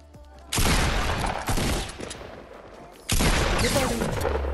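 A minigun fires in video game combat in two long, loud, continuous bursts, each a dense roaring stream of rapid shots, separated by a brief drop in intensity.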